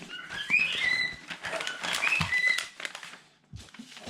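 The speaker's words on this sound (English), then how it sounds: "Sorry if you can hear the birds in the background." Birds chirp and whistle in the background outdoors, a few bright repeated calls mixed with close rustling of paper and handling noises.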